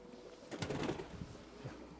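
Racing pigeons coo softly in a loft, a low rolling burst of cooing rising for about a second and then trailing into fainter murmurs against quiet background noise.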